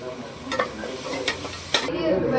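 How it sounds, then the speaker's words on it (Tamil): Tomatoes, green chillies and ginger paste sauté in a pan while being stirred, a close steady sizzle broken by a few sharp scraping strokes of the spoon, with no talking. "தக்காளி போட்டாச்சு நல்லா வதக்கி ரெண்டு பச்சை மிளகா இஞ்சி கொஞ்சம் பேஸ்ட்"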